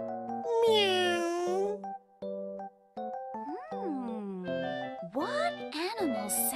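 A voice imitates a cat's meow several times, rising and falling, amid cheerful music and chimes.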